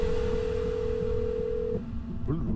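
Telephone dialing in a Roblox game: a steady tone holds for nearly two seconds, then cuts off, with a voice speaking under and after it.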